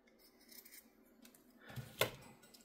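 Scissors snip through paper for a Celtic-themed junk journal, a single quiet cut ending in a sharp close near two seconds, with soft handling rustle before it at close range.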